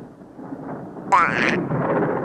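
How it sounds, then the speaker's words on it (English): Thunderstorm at an airport in a children's animated show, a low rumbling roll of thunder building into a louder crack and sustained rumble, with a brief bright whoosh midway. "Terrible storm blowing here."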